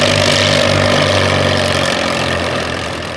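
An International Harvester Farmall 400 and a Farmall M, hitched in tandem to pull a larger plow at a tractor show, run with a loud, close, steady engine rumble and throaty exhaust chug, no voices over it.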